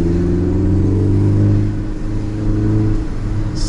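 A Ford Focus ST climbs a tight, twisting hill on The Snake road, its engine droning loud and steady with a rising, revving tone and constant tire and road rumble.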